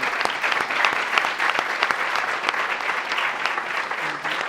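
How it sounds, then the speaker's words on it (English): Steady, dense applause from a conference crowd, clapping continuously without a break. "can we just give a round of applause for them?"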